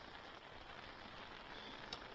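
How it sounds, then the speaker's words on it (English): Steady, moderate rain falling outdoors over lawns and a nature strip, a continuous even hiss with no let-up and no voices. "Quite a steady downpour, unusual."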